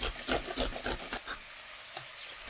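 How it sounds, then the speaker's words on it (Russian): Grated cucumber being stirred into frying onion and carrot in a pan: a few close, rhythmic scraping strokes, then the stirring stops and only a faint background hiss remains. "Выкладываю огурец к луку и моркови, перемешиваю"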